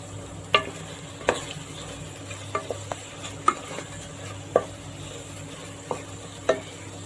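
Tomatoes and grated coconut are stirred and sautéed in a pan, a soft continuous sizzle broken by a series of light, sharp scrapes and taps of the spoon at an irregular rhythm.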